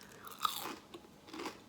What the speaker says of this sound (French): En mangeant des cornichons frits croustillants.